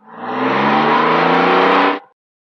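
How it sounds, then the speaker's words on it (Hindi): A car reversing, its engine revving loudly and steadily for about two seconds before cutting off abruptly into silence. "गाड़ी पीछे हटाता हूं, गो अहेड।"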